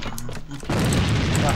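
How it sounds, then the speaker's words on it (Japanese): A thrown hand grenade explodes in the AVA shooter game, one abrupt loud blast followed by a dense rumbling roar, coming in after a moment of quieter gameplay noise and a voice. "手榴弾投擲。"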